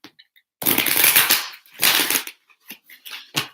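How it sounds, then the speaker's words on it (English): Tarot cards shuffled by hand in two long riffling bursts, followed by a few short flicks and taps of the deck, close and crisp with no talking. "One more shuffle."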